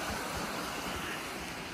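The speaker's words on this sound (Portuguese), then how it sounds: "Olha o barulho da água." Water flows steadily as a soft, continuous rush beside a rural bar in the countryside at Valsugana, Nova Trento, Santa Catarina, heard alone and faint.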